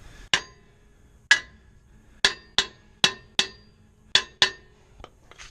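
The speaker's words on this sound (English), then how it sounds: "we're gonna gently hammer it a few times." A metal ball hammer strikes a wheel stud on a Chevy Caprice with drum brakes in sharp, ringing blows, about nine hits spaced unevenly with short pauses, close and clear in a quiet space.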